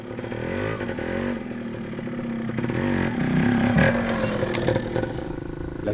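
A motorcycle rides through rural Congo, its engine droning loud and close with a steady rev that rises mid-way, accompanied by rattling clatter from the rough ride.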